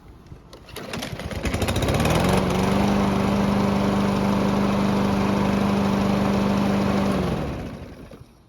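A hot small engine cranks and catches, then settles into a loud, steady near idle for several seconds before cutting off.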